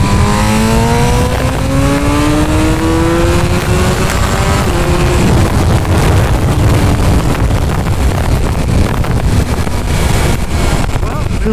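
A 2023 BMW M1000RR motorcycle ridden in road mode climbs in engine pitch through several gears, then holds a steady roar under heavy, constant wind rush, with a voice talking over it.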